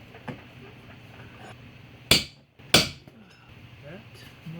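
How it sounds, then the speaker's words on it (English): Two sharp metallic knocks from a ball peen hammer striking a bolt into the back of a tractor cab, a Tektite cab on a John Deere 1023E, spaced about half a second apart against quiet background. "That and a ball peen hammer."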